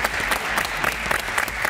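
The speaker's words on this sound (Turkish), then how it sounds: "Alkışlar gelsin" A TV quiz show studio audience breaks into loud, close applause, with sharp rhythmic clapping running unbroken for almost two seconds.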